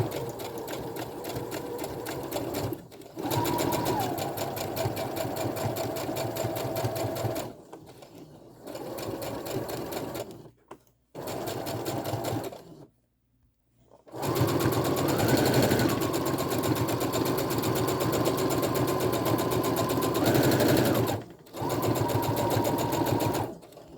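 A sewing machine stitches a mini Christmas stocking, running in steady bursts of loud motor whir with brief pauses between runs as the seam rounds a curve.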